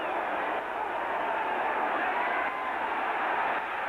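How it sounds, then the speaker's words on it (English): A football stadium crowd at a 1979 Pittsburgh Steelers at New England Patriots game rises into a steady, dense roar of many voices, loud and continuous throughout with no clear gaps. "Crowd coming to life."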